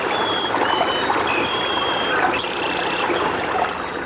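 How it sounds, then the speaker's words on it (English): Water flows steadily in a Clayton County creek on farmland, a continuous broadband rush and trickle heard outdoors at moderate loudness, with faint bird-like tones above and no talking. "The water in this Clayton County creek may be on its way to someone's kitchen faucet"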